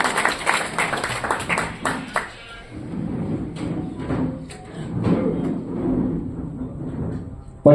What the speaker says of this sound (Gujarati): આપણે સૌ ભક્તો તાળીઓથી વધાવશું.